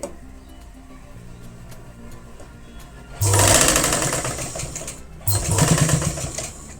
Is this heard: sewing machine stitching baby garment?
yes